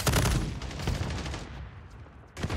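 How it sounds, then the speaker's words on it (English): Rapid bursts of launcher-like gunfire from the JAK Protean aftermarket part in Modern Warfare III, loud and close, heavy booming shots repeating in quick succession, then briefly thinning out before a final blast near the end. "Definitely sounds like a launcher, not gonna lie."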